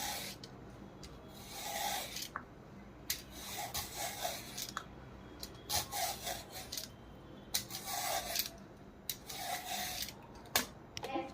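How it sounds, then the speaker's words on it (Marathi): A bottle gourd is peeled and grated by hand close up, with quiet rasping strokes repeating in uneven bursts over a low background hum. "आता आपण भोपळा आहे ना त्याचे साल काढून खिसून घेऊ"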